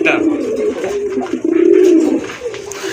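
Pigeon cooing close by at a bird market, a soft throaty rolling coo repeated over a few seconds with light background noise.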